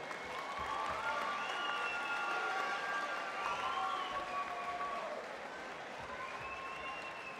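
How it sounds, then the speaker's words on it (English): A crowd claps and cheers for two Muay Thai fighters after a full five-round bout at a YOKKAO event, sustained applause with whistles that fades slightly toward the end. "please, again, another massive round of applause for both fighters"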